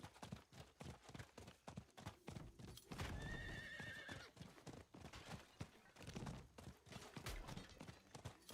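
Hooves clip-clop in a steady rhythm from a horse in a video game, with a loud whinnying neigh in the middle before the hoofbeats continue, faint voice nearby.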